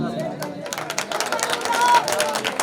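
Applause and crowd noise from an audience at a mushaira poetry gathering in Rajupur, a broad steady patter of many hands swelling slightly toward the end, with scattered voices beneath.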